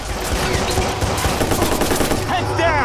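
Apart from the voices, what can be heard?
gunshots in the video game Watch Dogs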